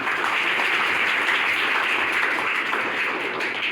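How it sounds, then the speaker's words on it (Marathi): A group of schoolchildren applauds continuously, dense steady clapping that stays loud for the whole stretch with no talking. "बघा टाळ्या वाजवा सर्वजण"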